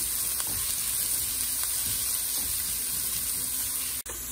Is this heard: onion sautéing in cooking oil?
yes